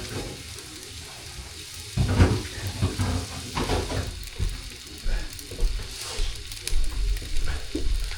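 Rice fries and sizzles against the bottom of a hot pan, with bursts of stirring and scraping over a continuous crackling hiss.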